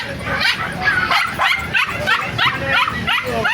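Several puppies yip and bark in quick, high-pitched bursts, with some whimpering mixed in, close by and fairly loud, at an animal market in Bocaue.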